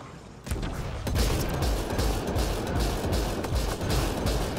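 Shotgun fire in the video game Mass Effect: Andromeda: a sustained run of heavy, booming blasts that starts abruptly after a brief quiet moment, with overlapping shots and dense low rumble continuing loudly throughout.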